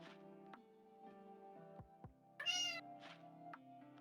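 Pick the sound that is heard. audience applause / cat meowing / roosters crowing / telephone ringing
cat meowing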